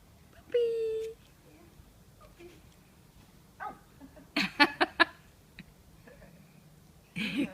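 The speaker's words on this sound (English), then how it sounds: "Puppy." A puppy whimpers with a high thin whine, then gives a cluster of short sharp barks and yips, close by in a quiet room, with soft talk in between.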